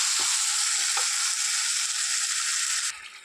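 Spice paste with turmeric and tomato fries for a jackfruit curry, producing a bright, loud, steady sizzle up close with a couple of stirring knocks near the start, easing slightly at the end.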